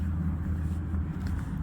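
A truck rolls along the Great Northern Highway near a caravan park in Cue, Western Australia. A low, steady engine and road rumble holds throughout the clip at a moderate distance.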